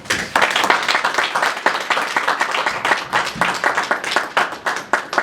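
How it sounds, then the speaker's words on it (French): An audience in Paris claps to welcome a Congolese national secretary at a political gathering. Dense applause runs steadily and loud for about five seconds with no voice over it. "qu'on accueille avec des applaudissements"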